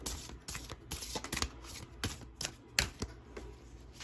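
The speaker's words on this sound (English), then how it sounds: "here's my sloppy shuffle" Tarot cards shuffled loosely by hand, heard close and quiet as a series of irregular papery riffling and slapping bursts over about four seconds, with no talking.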